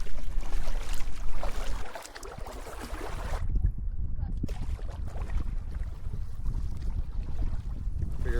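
Strong wind gusts across a lake during a backcountry canoe trip at Algonquin, a loud steady rush of wind noise with water and boat sounds mixed in and no speech.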